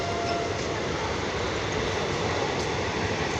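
A train at Hadapsar railway station in Pune, a steady rumbling roll of railcars with faint wheel clatter, continuous and moderately loud, with no talk over it.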